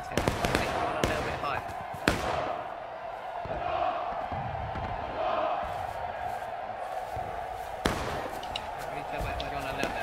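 A Civil War reenactment artillery crew fires a cannon at a UEC event on Hagerstown Turnpike. A few sharp blasts stand out over a steady outdoor crowd din, with people talking throughout.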